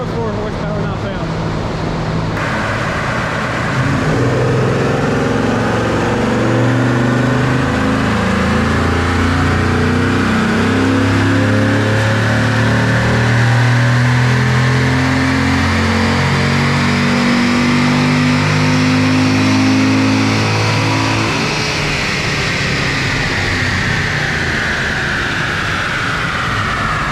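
A high-mileage Corvette engine revs hard and sustained on a dyno, its loud, steady roar climbing and holding for nearly half a minute while voices speak faintly under it.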